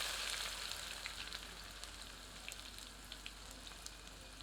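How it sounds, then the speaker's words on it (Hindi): Steady, close sizzling of chopped onions frying in a hot pan over medium heat, a continuous crackling hiss with small pops scattered throughout, no voices. "इसे मध्यम आंच पर 4 से 5 मिनट भूनते हैं, जब तक कि यह सुनहरे रंग की ना दिखने लगे।"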